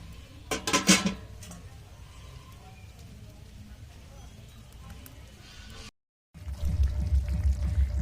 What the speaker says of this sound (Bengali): আমি এবার দিয়ে দিচ্ছি এর মধ্যে মাছগুলো।